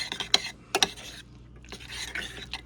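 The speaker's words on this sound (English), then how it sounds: "Now we're going to get us a spoon, and we're just basically working this all together" A spoon works through raw chopped steak tartare in a bowl, giving soft wet scraping and squelching strokes, a few sharper clicks early on, then a steadier stirring rub, close and fairly quiet.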